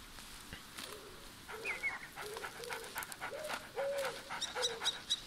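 A dog in the video game A Plague Tale: Innocence pants in quick, soft, rhythmic breaths, close but fairly quiet, with faint chirping birds in the outdoor background.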